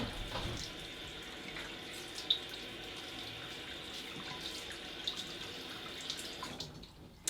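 Tap water runs steadily into a bathroom sink as a man wets his face before a wet shave with shaving cream, a continuous faint splashing stream with a few small drips, then cutting off near the end.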